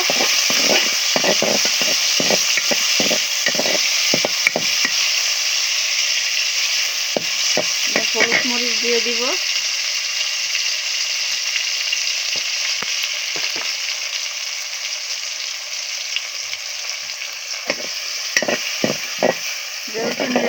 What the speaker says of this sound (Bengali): টমেটোটা একটু নেড়ে ফেড়ে নিব